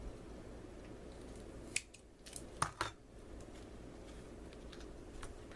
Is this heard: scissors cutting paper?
yes